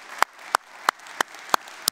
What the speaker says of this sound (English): Let's give God a hand clap of praise that you were able to make it into his house today.